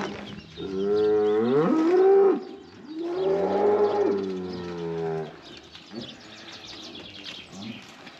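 A cow on a working livestock farm moos in two long, loud, close calls one after the other, followed by fainter lowing in the background as the herd is moved toward a field.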